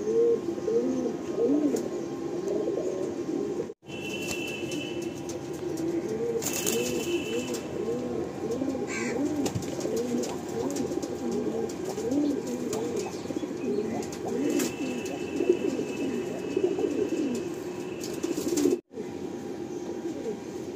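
Many pigeons coo steadily at close range at a Kolkata pigeon sale, a dense continuous chorus of overlapping burbling calls, with a few brief breaks and scattered faint background noises.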